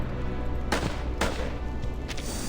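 A few scattered gunshots crack sporadically, fairly faint, over a constant noisy background din in the video game Reverse: 1999.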